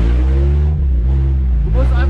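Off-road 4x4 engine revving loud and close on an extreme off-road course, a steady harmonic drone rising and dipping briefly, with voices talking over it.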